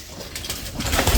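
Pigeons coo softly while being fed, with low, murmuring calls and a possible brief flutter of wings, heard close by under a dense, noisy background and no talking.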